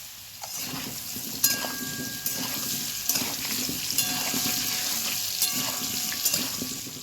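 Small new potatoes fry in hot oil with a dense, constant sizzle, broken by a few sharp clinks and scrapes as they are stirred in the pan.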